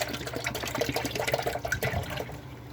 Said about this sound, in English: we're just going to pour it right in our bucket here. Pour the whole thing in.